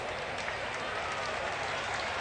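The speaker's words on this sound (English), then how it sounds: "I'm not actually getting the crowd noise. The crowd noise. There we go. It's back in my headset" Steady broadband crowd murmur and faint applause from a stadium in a baseball video game, continuous and moderately distant with no distinct voices.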